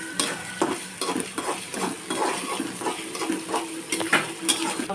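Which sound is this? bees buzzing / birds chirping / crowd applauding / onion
onion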